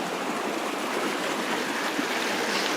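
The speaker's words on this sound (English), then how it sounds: "the sound of the river or the running water is a constant" Steady rushing of a river's running water in a Japanese town, a constant broadband wash holding even and unbroken throughout with no voices.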